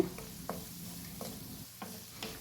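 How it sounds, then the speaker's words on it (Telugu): Onions fry quietly in a pan with turmeric and salt, a soft steady sizzle broken by a few light spatula scrapes as they are stirred. "ఇప్పుడు పసుపు కొంచెం పచ్చివాసన పోయేంత వరకు ఫ్రై చేసుకున్న తర్వాత"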